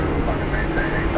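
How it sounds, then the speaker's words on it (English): A jet airliner at Dallas Fort Worth airport gives off a loud, steady, broadband engine roar that fills the whole moment without a break. "Got another heavy jet."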